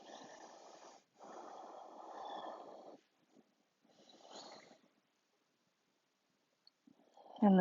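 Slow, deep breaths during a standing prenatal yoga forward bend, heard as close, airy inhales and exhales in long drawn-out phases separated by quiet pauses, with a brief louder sound at the very end.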